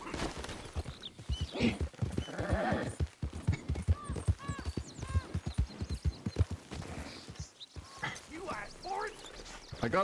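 Hooves clop steadily along with an occasional whinny from a horse in Red Dead Redemption role-play, heard beneath almost continuous talking.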